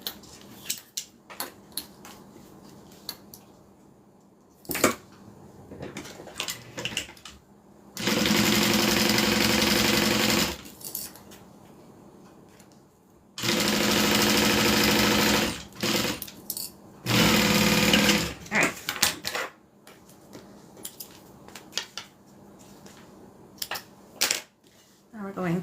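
A sewing machine stitches the exterior of a custom bag to its zipper in three loud, steady runs of a few seconds each, broken by quieter handling noises and short clicks.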